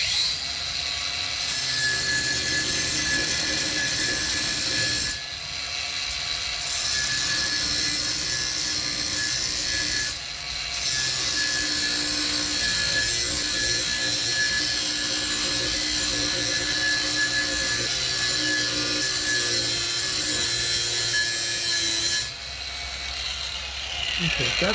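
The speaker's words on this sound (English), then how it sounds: "I'm just going to try to get to the line with the angle grinder and then find some way to clear it." An angle grinder cuts along a scribed line on a metal smoker build, giving a loud, continuous high-pitched whine close to the microphone, briefly dipping a few times as the cut pauses and resumes.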